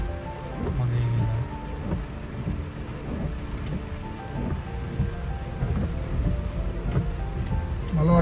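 Rain falling outdoors with thunder, a steady patter of drops on surfaces under a low rumble that swells and fades, heard at moderate loudness with no talking.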